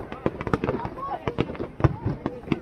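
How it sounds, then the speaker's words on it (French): Fireworks burst outdoors in the rain at a public display, a quick irregular run of sharp cracks and pops at a distance, with people talking nearby. "Ils ont mis le feu d'artifice, ils se sont dépêchés parce qu'il pleut."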